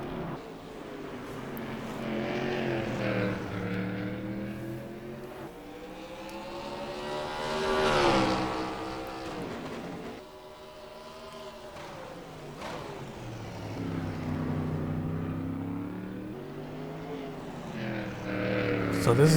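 Race cars scream along a road course at the Toronto GP in the Canadian Super Series, engines rising and falling in pitch as they pass, with commentary running underneath.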